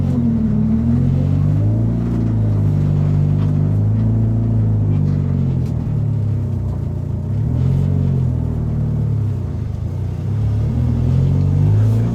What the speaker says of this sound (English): why it sounds a little Honda-ish, she doesn't have a muffler back there, so it's kind of a little loud